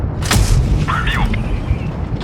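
A single sharp tank cannon shot from an Object 907 in World of Tanks booms out early, then fades into a steady low engine rumble with faint higher mechanical tones.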